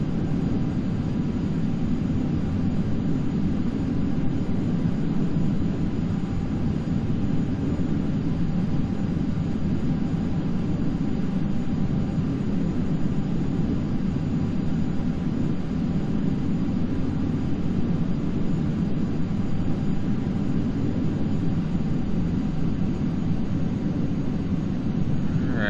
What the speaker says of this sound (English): I see an AI plane about to take off on our runway.